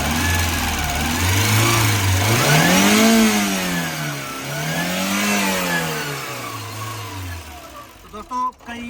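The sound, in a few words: Maruti Eeco car engine starting and revving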